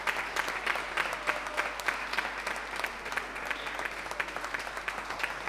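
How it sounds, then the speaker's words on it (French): Audience applause at a carnival stage show, a dense, even patter of many hands clapping together, fairly distant and sustained throughout with no clear cheering voices standing out. "Et acclamation s'il vous plaît."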